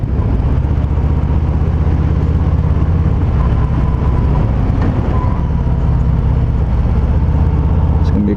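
A 2019 Harley-Davidson Fat Boy motorcycle engine drones loud and steady through a ride on a curvy road, a constant low rumble with wind noise and little change in pitch.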